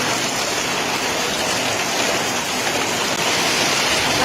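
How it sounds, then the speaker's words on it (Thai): Heavy rain falls steadily, a dense, loud hiss of drops pouring on surfaces that stays constant throughout without any voices. "ฝนตกค่ะฝนตก"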